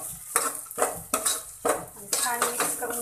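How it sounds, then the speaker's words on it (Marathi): A spoon scrapes and clatters through masala with turmeric in a pot of hot oil, making irregular metallic knocks and scraping strokes over a light background sizzle. "छान मिक्स करून घ्यायचं आहे."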